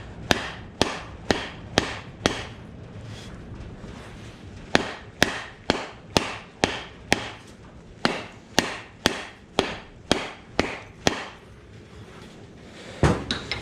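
An old sledge hammer head driven onto its handle with a mallet, sharp wooden knocks in steady runs of strikes with brief gaps, close and loud, no voices.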